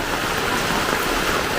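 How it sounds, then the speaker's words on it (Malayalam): Light rain falls in a steady, close hiss of drops on surfaces, brief and unbroken, with no talking. "മഴയ്ക്കൊരു ശക്തിയില്ലല്ലേ?"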